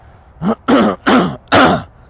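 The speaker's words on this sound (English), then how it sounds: "I'm so sorry that I'm coughing so much." Four harsh coughs and throat-clearing bursts in quick succession, close and loud, with short pauses between them.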